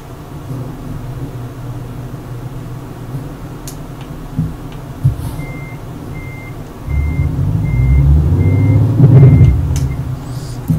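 A truck in the Euro Truck Simulator 2 game sounds its reversing alarm, a regular series of evenly spaced beeps over a low engine drone that swells louder toward the end.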